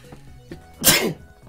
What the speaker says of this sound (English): And I sneezed.